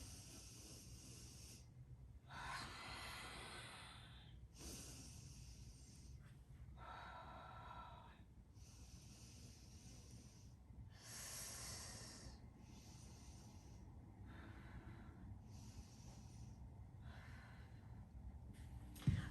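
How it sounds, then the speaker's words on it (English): Slow, audible breathing during a labor-prep stretch: a series of soft, airy inhales and exhales, several paced cycles at close range in a quiet room, with no talking. "I'm gonna take 5 breaths here."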